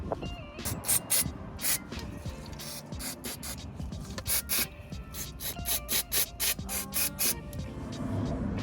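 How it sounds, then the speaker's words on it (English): Repeated short bursts of brake cleaner spray hiss close by onto front brake pads of a Renault Clio 3, coming in quick pulses with brief pauses between, over a faint background of rubbing and handling noise. "we get a bit of brake cleaner on there as well, just to spray them down"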